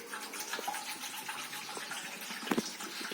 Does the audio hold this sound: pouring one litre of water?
yes